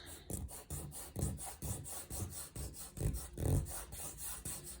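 Pastel stick being rubbed and blended across rough Colourfix paper in steady rhythmic strokes, about two per second, with a soft gritty rasp, close and quiet. No voices.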